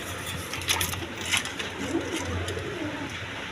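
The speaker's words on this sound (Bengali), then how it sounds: "প্রচুর পরিমাণে ডিম বাচ্চা সহ কবুতর আছে" Pigeons kept for sale with eggs and chicks coo in low, repeated throaty phrases close by, under a busy background of other birds and faint clatter.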